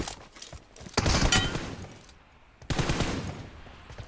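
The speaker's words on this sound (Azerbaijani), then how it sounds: "Bu gülə səsləri niyə belə olub ki?" Two rapid bursts of automatic gunfire crack out loud and close, the second starting after a brief lull, each a dense clatter of overlapping shots.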